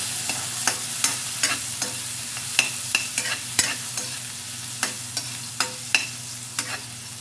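Tomatoes frying in a pan over low heat while cooking ginamos, with a steady sizzle under regular scraping and stirring strokes from a utensil.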